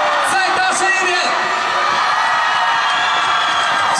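A live concert crowd at a Wuhan singing-contest show cheers, whoops and applauds loudly and continuously for a singer, a dense, close roar of voices and clapping filling the whole stretch.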